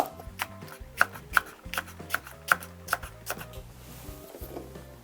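A knife slices a halved green onion on a cutting board, with sharp, close chops in a quick, slightly irregular rhythm that slows toward the end.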